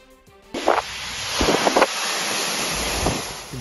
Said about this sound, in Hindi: गवादर में समंदर की लहरें साहिल से टकरा गई